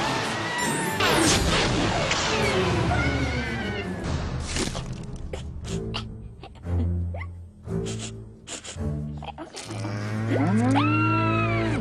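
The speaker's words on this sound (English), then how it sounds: "Oh, come on, don't panic, it's only a cow." A cow moos in a few drawn-out calls, with clattering and other mixed noises around it.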